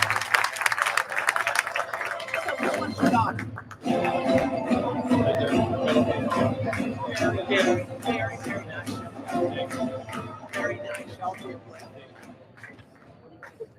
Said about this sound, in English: one more round of applause for the Nebraska Cornhuskers